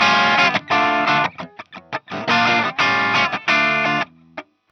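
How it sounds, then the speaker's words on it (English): Distorted rhythm guitar strums chords in short bursts with gaps and brief muted hits between them, loud and close, alone without talk, for a simple bluesy band intro. "And some supporting chords on the rhythm guitar."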